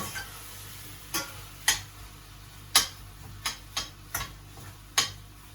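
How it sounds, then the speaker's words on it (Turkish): Potatoes sizzle gently in a pot while a utensil stirs, scraping and tapping at irregular intervals, a handful of sharp clicks over the frying hiss. "Aynı şekilde karıştırmaya devam edelim."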